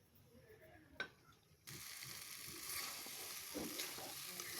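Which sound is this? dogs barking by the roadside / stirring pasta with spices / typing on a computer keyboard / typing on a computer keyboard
stirring pasta with spices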